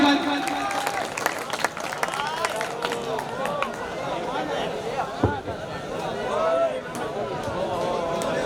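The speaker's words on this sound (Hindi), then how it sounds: "एक मरतबा ताली बजाकर इस्तकबाल" An audience at a mushaira poetry gathering in Dharampuri, Madhya Pradesh, applauds to welcome a poet, a steady wash of many hands clapping with crowd murmur and a voice over it.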